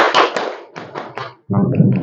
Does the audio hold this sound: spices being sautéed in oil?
no